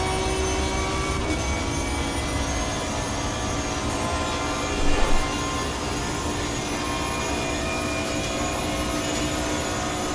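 An Aston Martin Vantage V12 GT3 race car engine in the racing game Assetto Corsa Competizione, a steady, even droning hum with a brief small blip midway and no voices.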